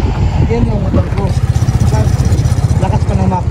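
A motorcycle engine idles close and loud with a pulsing, throbbing rhythm, while a person talks over it.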